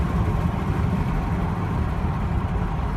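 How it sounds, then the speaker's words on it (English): An Infiniti QX60 engine rumbles low and steady with an uneven, throbbing undertone from transmission shudder as it jumps in and out of gear, heard from inside the vehicle without voices. "You can see that engine is jumping in and out of gear"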